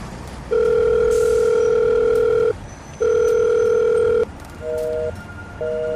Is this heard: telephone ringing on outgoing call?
yes